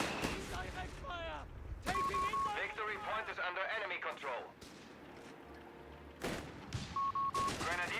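Heavy machine guns rattle in Company of Heroes 3, bursts of rapid gunfire and explosions mixed with game effects, while a commentator talks over the battle.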